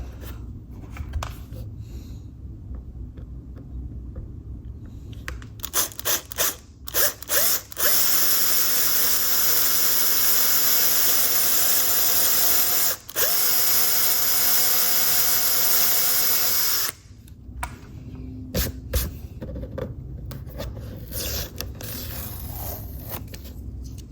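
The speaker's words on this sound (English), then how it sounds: "I don't want to accidentally drill into my tabletop" A power drill whines steadily for several seconds, briefly stops, then resumes before cutting off, drilling a motorcycle lower fender light part on a tabletop, with scattered handling clatter before and after.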